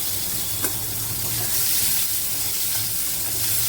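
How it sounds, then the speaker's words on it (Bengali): Onion frying in oil in a pan produces a dense, even sizzle close by, with a faint clink of stirring near the start and no voice over it. "এবার আমি পেঁয়াজটাকে খুব ভালো করে লাল লাল করে ভেজে নিই।"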